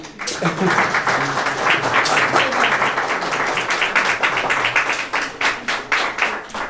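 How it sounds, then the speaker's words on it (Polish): Audience applause for Jola at a birthday celebration for Princess Eleonora in the Gardener's House in Radzymin: steady, dense clapping from a roomful of people, close and loud, holding for several seconds with scattered louder claps near the end. "wielkie brawa dla Joli"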